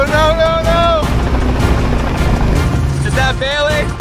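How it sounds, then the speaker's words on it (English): Helicopter in a hide-and-seek video game, its steady rotor drone running loud and continuous throughout, with a couple of excited voices talking over it. "How do you hide from a helicopter?"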